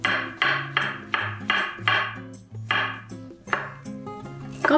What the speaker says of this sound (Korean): 깨끗이 씻은 양송이 버섯은 모양을 살려 얄팍하게 썰어주세요.